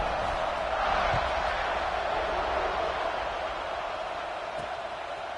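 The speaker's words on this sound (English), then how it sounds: "They're set to kick it off, and this crowd now ready to get behind them." Stadium crowd in an NCAA football video game at kickoff, a broad steady roar of many voices, loud and sustained, slowly easing toward the end.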